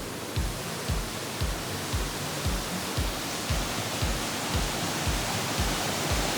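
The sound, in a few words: waterfall in Central America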